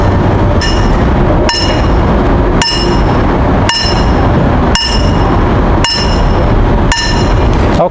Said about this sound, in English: Bill's gonna hit the pipe with a hammer